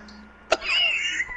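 One short, sharp cough sounds close to the mic in the middle of a quiet moment, followed by a thin whistling tone.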